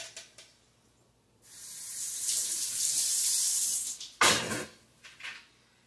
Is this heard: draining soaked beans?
yes